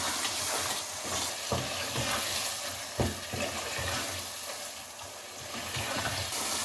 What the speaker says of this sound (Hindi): अब मटर को इसके साथ भून लें 1 से 2 मिनट।